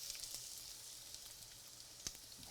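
Chopped onion sizzling in olive oil in a soup pot, a faint, steady hiss of frying with a few light crackles, heard alone without talk.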